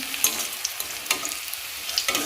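Slices of kakrol (spiny gourd) frying in oil until reddish, a close continuous sizzle with soft sputtering pops and occasional spatula clicks, no voices.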